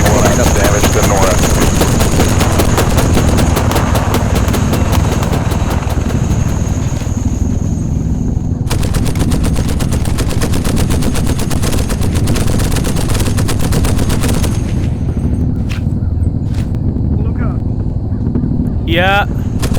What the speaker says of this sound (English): 50 cals, light up that helicopter inbound.